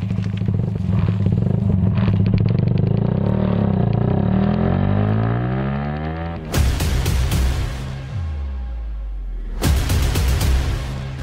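A motorcycle is ridden along, its engine revving up and shifting pitch, then dropping to a low putter between bursts of loud rushing wind and road noise.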